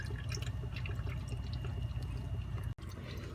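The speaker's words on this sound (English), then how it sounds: "Now it's draining." Hot engine oil from an Acura TL with a 3.5 V6 draining into a tub, a steady, fairly faint liquid trickle and patter that continues without a break.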